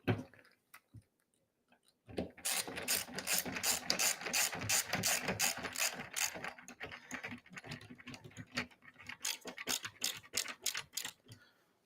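Screws are driven into a Golden Tee Deluxe arcade cabinet control panel, producing long runs of rapid, rhythmic clicking ratchet ticks with brief pauses, close but fairly quiet.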